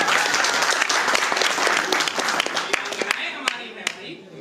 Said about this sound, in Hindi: एक बार भाई बहनों के लिए ताली बजाओ।